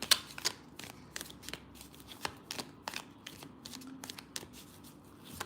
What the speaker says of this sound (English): Let's do a spread on it and see if the pregnancy card comes out.